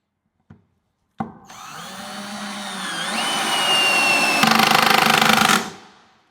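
A The Black Tools cordless screwdriver, set to speed 1 and torque 1, starts after a couple of clicks and whines steadily, its motor pitch rising and then roughening near the end before it winds down into silence.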